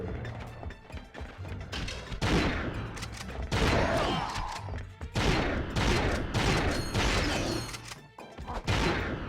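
A shotgun in Ratchet & Clank 2: Going Commando fires again and again, loud, crunchy blasts in quick, uneven bursts with brief pauses between volleys and mechanical clatter underneath.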